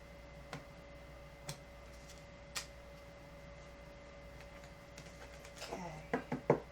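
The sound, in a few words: shuffling tarot cards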